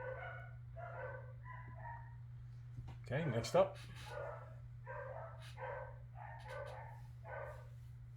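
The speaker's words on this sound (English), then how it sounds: "Sorry about the dogs barking." Dogs barking repeatedly in the background, short yapping bursts in a steady rhythm over a low electrical hum, while a person briefly speaks.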